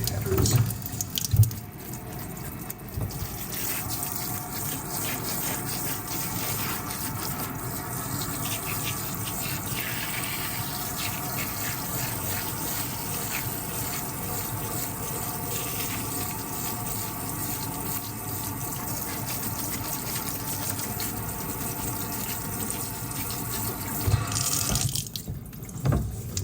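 Warm water running from a sink tap to moisten coir growing medium for sunflower greens, a steady continuous flow with a faint splashing texture, heard alone without talk for the whole stretch.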